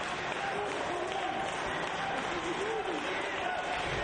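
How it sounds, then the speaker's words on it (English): A Pittsburgh crowd at a Ring of Honor wrestling match cheers and roars continuously throughout, a dense, sustained wall of arena noise with a commentator talking over it. "And you hear the Pittsburgh crowd getting behind this action"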